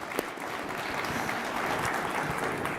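A conference audience claps steadily, a dense, even applause that holds from start to finish.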